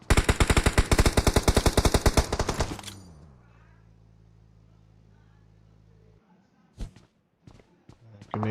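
Rapid automatic gunfire sprays in a PUBG Mobile esports match, a dense loud rhythmic burst of shots for about three seconds, then a low engine-like hum and a few scattered sharp sounds.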